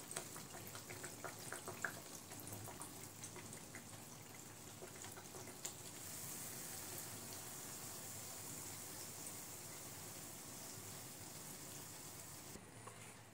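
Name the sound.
anarsa frying in oil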